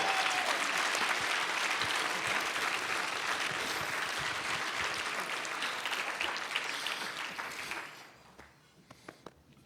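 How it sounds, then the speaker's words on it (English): Audience at a regional chamber of commerce awards dinner applauds the two MCs of the award ceremony, a loud, sustained crowd clapping that holds steady for about eight seconds, then thins out into a few scattered final claps. "How about a huge round of applause for our two MCs for the award ceremony?"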